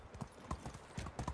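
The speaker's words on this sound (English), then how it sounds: "why is there a horse running outside the village?" Hoofbeats of a horse running in the medieval village-life game Medieval Dynasty, a quick, uneven clip-clop of several hoof strikes, close and clear.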